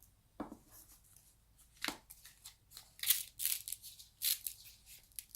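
Quiet, papery snaps and riffles as stiff Visconti Modrone tarot cards, sticking together, are peeled apart one by one, in irregular bursts with short pauses, close by.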